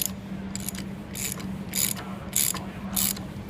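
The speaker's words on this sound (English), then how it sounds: "take your special tool and put it into the outer adjuster, and then you just go ahead and loosen it." A special tool loosens the outer bearing adjuster on a differential with a series of regular, fairly quiet ratcheting clicks over a steady low mechanical hum.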